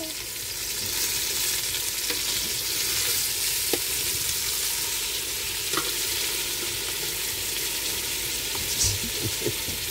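Adobo sizzles and fries steadily in a pan while being stirred, with scattered clicks and scrapes of the utensil against the pan over a continuous frying hiss, at a roadside boulevard in Molo, Iloilo City.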